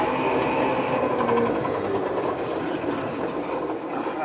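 An H220 electric machine runs steadily with a continuous mechanical hum and rattling, clattery motion noise at a constant, fairly loud level with no voices.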